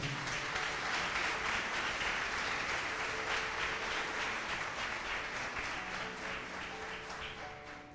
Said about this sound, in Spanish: Levante un aplauso al Señor por eso.